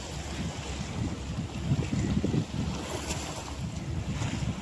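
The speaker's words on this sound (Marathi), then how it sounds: "त्या शिपचा इंजिनचा जितका लांबपर्यंत ऐकू येतो आहे" A gas-carrying ship's engine drones continuously in the distance off a beach used for fishing, mixed into steady wind buffeting and surf with no speech.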